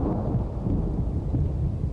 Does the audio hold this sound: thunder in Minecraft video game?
yes